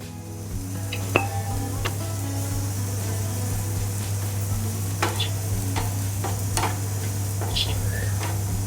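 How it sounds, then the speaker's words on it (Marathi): Onion roasts in a pan with a low, steady frying hiss broken by scattered clicks and taps of stirring. A constant low hum runs underneath. "आता कांदा भाजून घेऊ."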